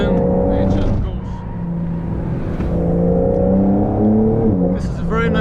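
A 2021 Porsche 911 Carrera GTS (992) on the Franciacorta race track, its engine droning and revving close and loud as it shifts, with someone talking over it.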